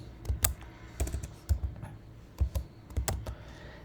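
Keys clatter on a computer keyboard while Python code is typed, quick clustered taps in irregular bursts, close and fairly quiet, with no talking.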